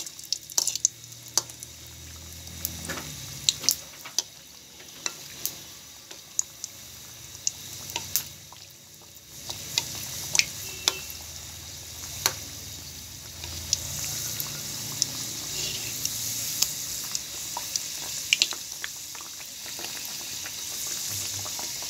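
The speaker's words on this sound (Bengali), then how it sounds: "এরপর আমরা তাহলে এগুলো ভাজি করে নেব" Nimki, savory flour snacks, deep-frying in hot oil, bakery style: a steady, close sizzle with bubbling and frequent small pops that grows denser and brighter as it goes on, with no speech.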